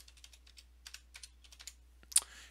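Quick, light keystrokes tapped on a Windows 10 computer keyboard, a quiet run of irregular clicks that ends with one sharper, louder key press near the close.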